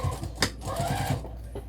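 A sewing machine back stitches through a vinyl zipper panel on a tote bag, a brief burst of quick, even mechanical stitching pulses close by, with small clicks before and after.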